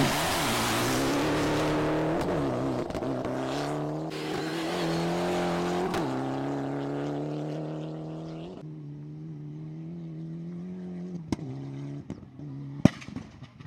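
An SSV rally vehicle opens a timed stage at the Assinie top chrono rally, 2017: a loud, close engine roars and revs through shifting pitches, then eases off with sharp pops and crackles near the end.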